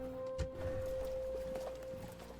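Horse sounds play as cavalry is recruited in the strategy game Imperium Surrectum: a few brief hoof thuds and stirrings under a steady interface hum, with no speech.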